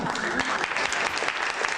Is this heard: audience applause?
yes